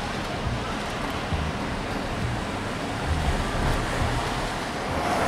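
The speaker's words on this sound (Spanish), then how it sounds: "Mira la cascada." A waterfall at a Las Vegas hotel gives a dense, constant roar of falling water, broad and steady throughout with slight swells and no clear breaks. Faint wind noise sits underneath.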